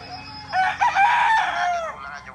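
Imported gamefarm roosters at a farm in Angat, Bulacan crowing in one long, loud cock-a-doodle-doo with some clucking alongside, close by and without talk.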